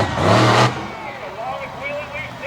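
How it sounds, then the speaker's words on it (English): A monster truck engine roars loudly for a moment during a wheelie on a dirt track, then drops to a rough rumble under an announcer's voice, with the wheelie bar dragging across the dirt. "he stands it up there, dragging the wheelie bar across the dirt"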